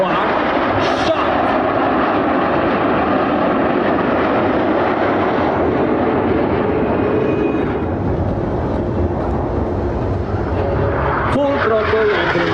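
Frecce Tricolori MB-339 jets at full throttle over a Sunday airshow in Sacramento, a loud, steady broadband roar filling the whole stretch with little change, a brief sharp crackle near the end.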